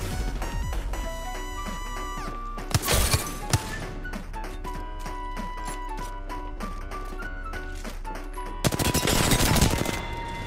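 Rapid automatic gunfire and bursts in an online shooter video game, dense volleys running under game music and effects, with louder crashing bursts near the start and again toward the end.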